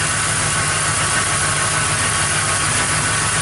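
A car engine idling close by in a garage, a steady, loud, unbroken mechanical drone with a low throb and no pauses.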